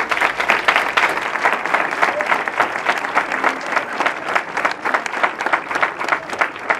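Sustained audience applause, dense and steady clapping from a crowd throughout, fairly loud with no pauses.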